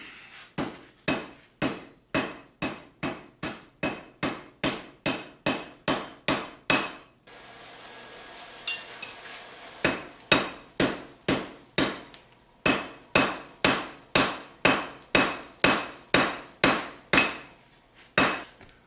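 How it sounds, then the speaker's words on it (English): Rhythmic, ringing hammer blows on cable damascus steel at welding heat, struck in quick steady series, pausing briefly midway for a duller rumbling stretch before the pounding resumes. "That'll make it a lot easier to hammer up once we get our welding heat on it."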